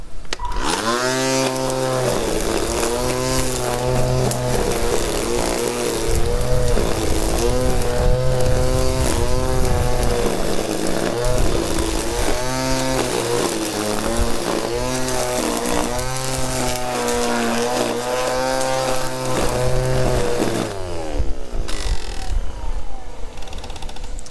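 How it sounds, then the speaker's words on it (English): A Teccpo 20-volt cordless string trimmer with a 2Ah lithium-ion battery whines steadily through tall, rarely mowed grass outdoors, its motor pitch rising and dipping as it bogs and recovers, close and continuous before cutting off near the end, with no talking. "So that's a look at the 20-volt grass trimmer here from Teccpo"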